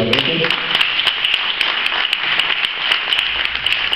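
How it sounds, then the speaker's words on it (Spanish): An audience at a tango performance applauds the producer, loud sustained clapping from many hands filling the room without a break for several seconds. "Un aplauso para Yair Barreto."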